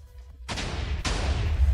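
Two quick booming cannon shots in the Minecraft video game, loud explosive bursts about half a second apart with a rumbling tail.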